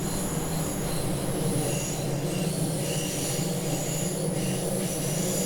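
A Class 612 train runs on the Tharandter Rampe route in Train Sim World 2, giving a steady, continuous rumble of wheels on rails with high squealing tones. No voices are heard over it.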